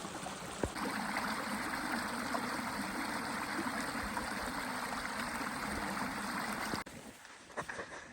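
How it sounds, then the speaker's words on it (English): A small waterfall stream on a hike rushes steadily with close, even water noise for most of the time, then cuts off abruptly near the end, leaving a few faint knocks. "I found what was making the rushing water noise."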